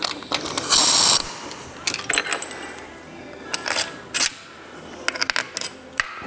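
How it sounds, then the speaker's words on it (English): Ratcheting torque wrench tightening bolts to 18 foot-pounds on a Toyota Tacoma E-locker differential during an overhaul, with loud clustered clicks and metallic rattles in short bursts. "Torquing these to 18 foot-pounds"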